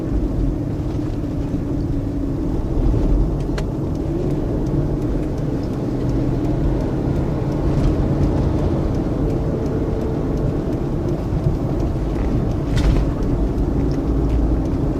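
A Lincoln Aviator's 4.6 V8 under moderate acceleration, heard as a steady, muffled engine rumble and road drone from inside the vehicle, with no clear rise or shifts.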